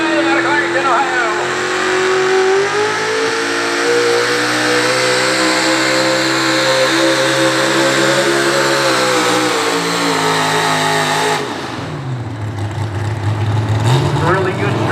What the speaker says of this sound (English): had a lot of wrenches to do on that truck, but here he comes, DJ Taylor.